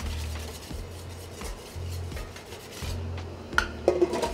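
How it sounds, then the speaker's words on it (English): Egg yolks whisked in a bowl over a double boiler, a steady rhythmic scraping and clinking of the whisk against the bowl, repeating in even strokes, close and fairly quiet, with a few sharper knocks near the end. "you're gonna whisk these over the double boiler"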